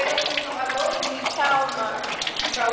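Water spouts and splashes from a lion-head fountain in the Parque das Águas at São Lourenço, a continuous rushing gush heard close by with people talking over it.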